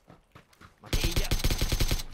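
Rapid automatic gunfire bursts out in a PUBG match, a dense loud rattle of shots lasting about a second after some quieter, scattered sounds.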